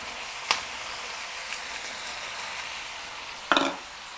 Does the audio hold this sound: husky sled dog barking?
no